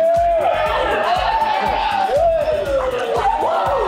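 Restaurant crowd at a Cinco de Mayo celebration at Rock & Brews in The Colony, Texas, roars and whoops in a steady, loud wash of voices with a rhythmic thumping beat underneath.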